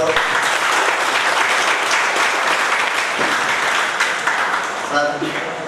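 An audience at a training camp for district parishad employees claps loudly and steadily throughout, a dense, sustained burst of applause with some voices mixed in.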